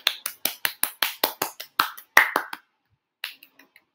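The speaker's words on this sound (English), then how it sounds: "Clap hands." A quick, evenly paced run of about a dozen sharp hand claps comes close and crisp, then a short pause and a few softer scattered claps, with no voices.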